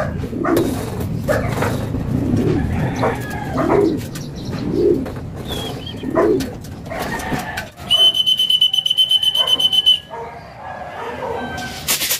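Racing pigeons coo repeatedly in soft, rhythmic bursts at close range, with a brief rapid electronic beeping near the end, like a clocking system.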